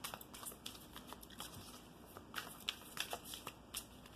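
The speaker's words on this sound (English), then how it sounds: "I'm just giving it another light shuffle." Tarot cards shuffled lightly by hand, a steady patter of soft flicks and taps, close and quiet, with no talking.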